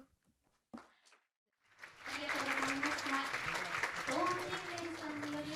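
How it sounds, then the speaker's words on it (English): A hall audience at a children's world peace summit breaks into sustained applause, dense and steady after a few brief knocks and a short spoken moment at the start. "please give a big round of applause to her once again"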